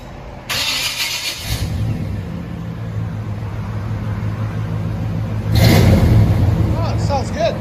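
A 1995 Chevy Silverado 5.7L V8 with dual Flowmaster Delta 40 Series exhaust rumbles at idle, then revs up loudly around the midpoint with a throaty burble, close by and with no talking.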